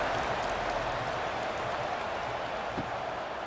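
A stadium crowd roars steadily through a night college football game in College Football 26, a dense, loud wash of cheering and applause throughout, with no distinct voices.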